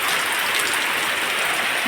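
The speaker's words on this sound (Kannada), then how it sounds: "ಮಳೆ ನೋಡಿ ಬರ್ತಾನೆ ಉಂಟು ಬರ್ತಾನೆ ಉಂಟು" Steady rain falling outdoors at a home, a dense even hiss of drops hitting surfaces that stays constant throughout with no voices over it.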